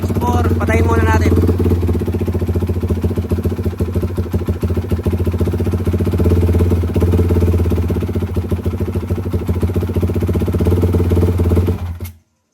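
A Raider 400cc motorcycle engine runs loud and close at a steady, thumping idle for several seconds before cutting off abruptly; a voice briefly sounds at the start.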